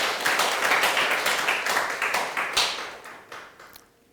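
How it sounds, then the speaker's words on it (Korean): Church congregation at a Korean prayer service clapping in applause, a dense burst of many hands that gradually thins and fades over a few seconds, with no talking. "큰 격려의 박수, 감사의 박수 한번 올려주시기 바랍니다."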